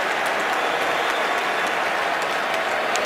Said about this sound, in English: And the crowd is alive here at MetLife Stadium.